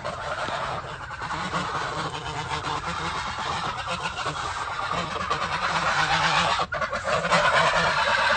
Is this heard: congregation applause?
no